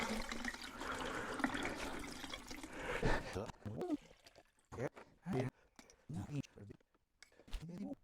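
Running water rinses colour film during darkroom development, a steady gushing stream for about three seconds that then gives way to someone talking, with short splashes between his words.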